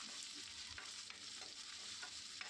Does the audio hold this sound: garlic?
yes